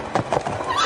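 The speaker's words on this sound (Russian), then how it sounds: "послышится топот копыт" A horse neighs with a quick clip-clop of hooves, a short close sound effect heard alone.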